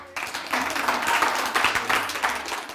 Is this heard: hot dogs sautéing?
no